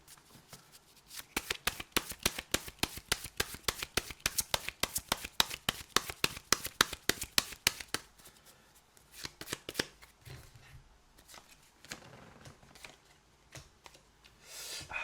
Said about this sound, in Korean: 좋은 카드를 한번 또 뽑아보도록 하죠